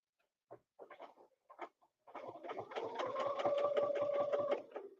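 Sewing machine stitching a quilt design on a 3/4-inch spacing line, a few short stop-start bursts giving way to a steady, rapid mechanical run with a clear pulsing rhythm, close and moderately loud.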